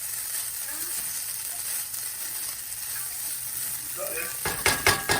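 Arborio rice sautéing in two tablespoons of butter, a soft steady sizzle followed by a few sharp clinks and scrapes of a spoon against the pan near the end.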